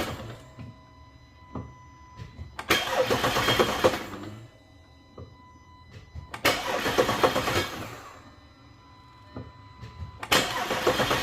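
An Audi A5/A6 with a 3.2-liter engine cranks over after a major repair, its fuel fuse pulled so it will not fire: three separate bursts of starter whirring, each lasting about a second or two, with quiet pauses between them.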